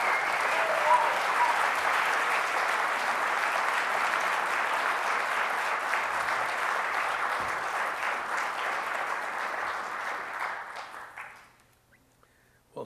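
Audience applause welcoming a keynote speaker at a treaty conference, steady and sustained for about eleven seconds before quickly dying away to near silence.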